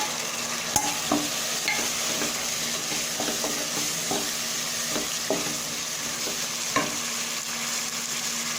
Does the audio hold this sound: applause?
no